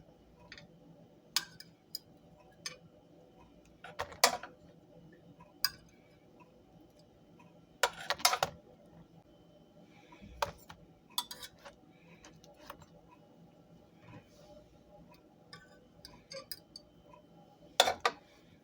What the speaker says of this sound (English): So now I'm going to air fry them to get them crispy.